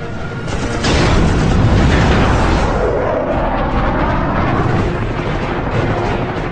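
Loud, continuous roar of rapid aircraft cannon fire from a MiG fighter in a dogfight with an F-86 Sabre, with rumbling blasts, sustained throughout with no pauses, dense and close.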